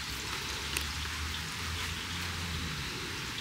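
Steady rain falling outdoors, a dense continuous hiss of drops at an even loudness throughout, with no talk.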